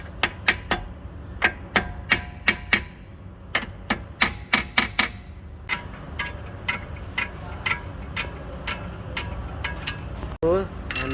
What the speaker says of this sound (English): must be tightened with the ratchet